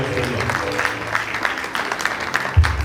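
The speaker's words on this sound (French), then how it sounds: "Acclamons très fort pour la gloire de notre Dieu" A congregation at a church wedding in Portland, Maine claps in a steady rhythmic beat. The moderately loud clapping runs under a voice speaking.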